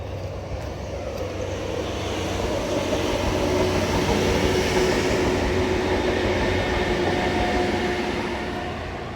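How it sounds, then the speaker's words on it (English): A train rumbles past, a broad steady roar swelling to a peak and slowly fading, with a faint whining tone in the middle. "Talking of trains."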